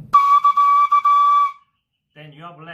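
A fife note blown into the mouthpiece by a beginner, a clear steady whistle-like tone lasting about a second and a half with slight wavering, followed by a brief silence and then a speaking voice.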